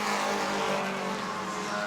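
A steady, loud roar of Bomber-class stock car engines, dense and continuous, as cars race around New Smyrna Speedway.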